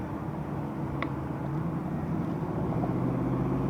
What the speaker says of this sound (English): Loud and slow Mustang.